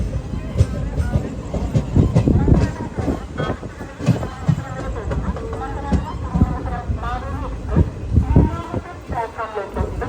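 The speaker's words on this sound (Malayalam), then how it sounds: "ട്രെയിൻ ഇതാ തിരൂർ റെയിൽവേ സ്റ്റേഷനിലേക്ക് എത്തിക്കൊണ്ടിരിക്കുകയാണ്" The Maveli Express rumbles into Tirur railway station, wheels clattering and brakes hissing at close range while voices talk and a crowd murmurs on the platform.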